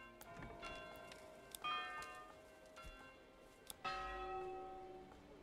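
A church bell in the medieval village-building game Manor Lords rings twice, each clear metallic strike leaving a long shimmering ring that fades slowly over quiet background ambience.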